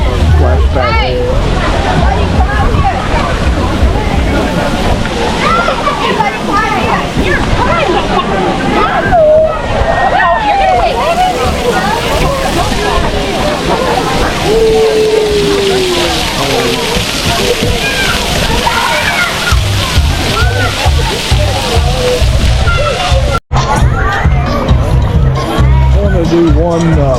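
Busy splashing and sloshing water at a crowded cruise-port pool splash pad, with a dense crowd murmur and voices layered over the steady wash of water throughout.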